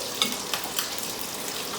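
Steady sizzling of food frying in a pan, a constant crackling hiss with a few small pops, no voices.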